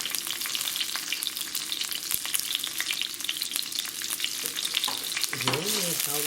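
Onion and garlic stir-frying in a hot pan, a steady dense sizzle with soft scraping stirs throughout, close and loud, ending with a brief whistling tone.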